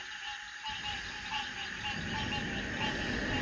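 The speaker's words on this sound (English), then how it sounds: "That's a big old bullfrog." A bullfrog croaks outdoors at a fishing spot, a run of low repeated croaks at moderate distance under a constant insect and ambient drone, no talking.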